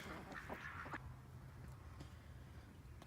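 Farm ducks giving a short burst of quacks near the start, fairly faint against a low background rumble, then quiet.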